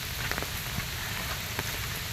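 Steady rain falls near Shivapuri Baba's ashram, a soft continuous patter with a few sharper drops tapping now and then, fairly quiet and with no voices.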